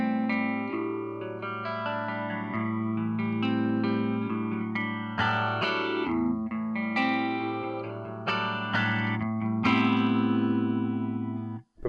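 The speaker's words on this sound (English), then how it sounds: "starting on the first gradient line, first part of the gradient line on the phaser, you'll hear that the effect is quite slow." Electric guitar through a Marshall MG2FX amp with a slow phaser effect, sustained distorted chords and notes sweeping gently, loud and continuous with no talk.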